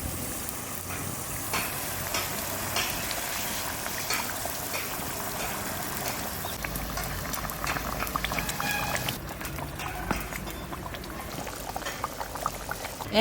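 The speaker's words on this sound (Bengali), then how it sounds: "আমি মাছগুলো দিয়ে দেবো ঝোলে" Rohu fish simmers in a mustard curry gravy, giving a steady, close bubbling and boiling hiss that runs unbroken and fairly loud throughout, with soft liquid pours and stirring mixed in.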